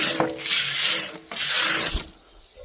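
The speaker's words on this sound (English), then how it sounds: "Now this is just taking the polish off, the black polish that I'm using to buff it back." Cloth rubbing black polish off an antique copper log basket with brass and copper rivets, in two long, steady buffing strokes that sound like brisk sanding, each followed by a short pause.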